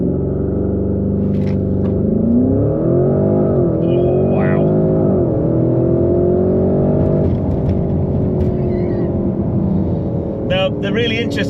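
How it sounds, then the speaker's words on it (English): A Porsche Cayenne V8 SUV launches hard on launch control, its engine note rising steadily in a loud, continuous surge with sustained revving, heard close and alone on an open road. "I think we need to try a launch control"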